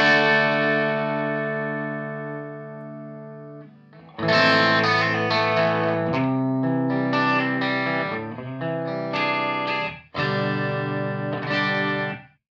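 Electric guitar through a modeled Marshall JCM 900 amp with an impulse response: a long ringing chord fades out, then loud strummed chords and short stabs follow, with room echo.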